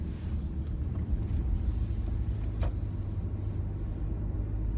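Steady low road rumble inside a moving car, a continuous droning hum with no talk over it.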